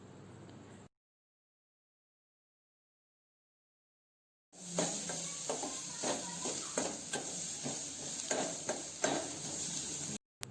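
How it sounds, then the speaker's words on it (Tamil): Sliced onions with salt are stirred and sautéed in a pan for an egg omelet, a close steady sizzle broken by repeated scraping strokes of a spatula, after a stretch of silence at the start. "வெங்காயம் வதங்கிறதுக்காக கொஞ்சம் உப்பு சேர்த்து நல்லா கிளறி விட்டுடலாம்."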